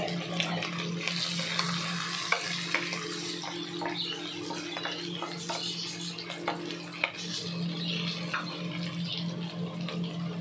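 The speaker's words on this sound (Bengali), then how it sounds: "রসুন ভাজাটা হয়ে গেছে, এবার অ্যাড করব চপ করে রাখা কাঁচা লঙ্কা।" Garlic and chopped green chillies fry in a pan for garlic rice, a steady close crackling sizzle with occasional sharper pops and faint stirring scrapes throughout, no talking.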